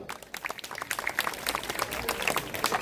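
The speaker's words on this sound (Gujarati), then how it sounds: "તાળીઓ" Audience applause at a village festival dance show, a loose crowd clapping in scattered bursts that build slightly over about three seconds, with some background voices.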